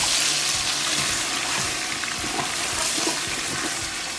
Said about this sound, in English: So very gently, we're gonna saute it.